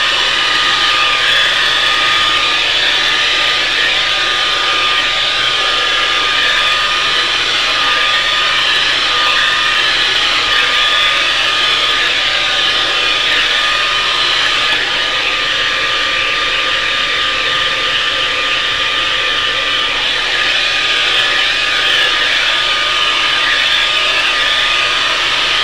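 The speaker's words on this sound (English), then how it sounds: "plug in just a regular old blow dryer." Steady whooshing roar of an ordinary hair dryer on its hot, high setting, close and loud, running without a break for the whole stretch with no voices over it.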